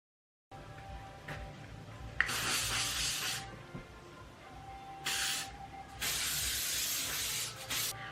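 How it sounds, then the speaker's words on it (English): Volumizing hairspray hisses from an aerosol can in several bursts, two short and two longer, close and fairly loud, separated by quiet pauses with no talking. "It's the volumizing hairspray for big sexy styles."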